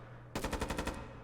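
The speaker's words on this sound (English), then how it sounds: "They're mag dumping wooden walls with no one behind them." Rapid automatic gunfire in a video game, a magazine emptied into wooden walls: one close, loud burst of about ten evenly spaced shots lasting roughly half a second.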